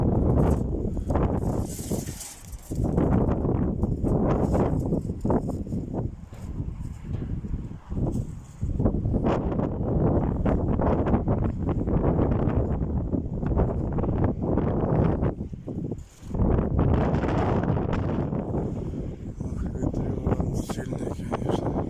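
Strong wind gusting outdoors at a pigeon flying session in Salsk in winter, loud buffeting roar across the microphone with brief lulls, while someone talks through it.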